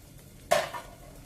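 A single scrape of a utensil stirring eggs in a frying pan, a short metallic clatter against the pan over a quiet background, heard alone.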